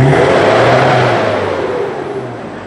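A car engine is revved to about 3,000 rpm during a black-smoke emissions check, producing a loud, close, sustained engine roar whose pitch slowly sinks as the revs ease off.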